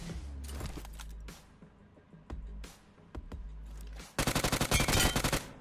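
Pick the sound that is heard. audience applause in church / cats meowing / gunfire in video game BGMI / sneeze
gunfire in video game BGMI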